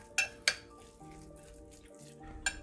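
A spoon stirs Ottoman ezme with olive oil in a bowl, making a few sharp clinks against the dish over a soft, quiet background.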